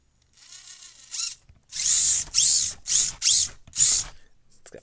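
A Furitek brushless motor in an Axial AX24 RC crawler whines in about five sharp, close bursts that rev up and cut off, with brief quiet gaps and faint gear noise between them.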